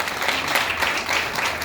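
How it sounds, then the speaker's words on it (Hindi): A large audience at a Tiens India event in Delhi bursts into loud, continuous applause, a thick, even roar of many hands clapping that holds steady throughout. "जोरदार तालियां उनके लिए।"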